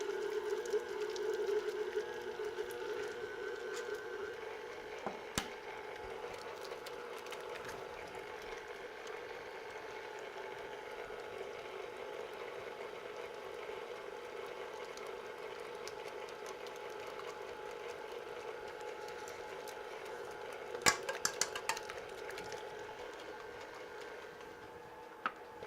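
Stand mixer beating crab and roasted pepper cheesecake batter, a steady faint motor whir with a soft rhythmic ticking that runs on without pause and a couple of brief knocks.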